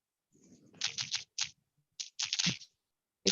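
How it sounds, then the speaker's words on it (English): Bursts of typing on a computer keyboard, quick clusters of close, crisp key clicks separated by short pauses, with a final sharp click at the end. "I can hear the type. Yes, I'm typing."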